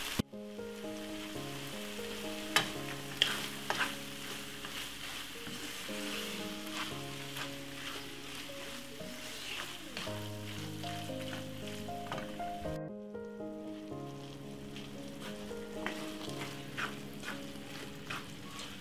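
Tuna and pasta cooking in a pan over medium heat, a soft continuous sizzle with scattered crackles and occasional stirring clicks, briefly dropping out before resuming.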